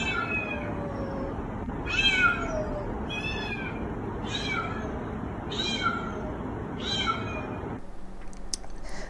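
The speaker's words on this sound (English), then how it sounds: "our two cats who have discovered that they're still in the same house together, calling to each other down the hallway" Two house cats meow back and forth down a hallway, six drawn-out calls in a steady sequence about a second apart, heard over a constant low room hum.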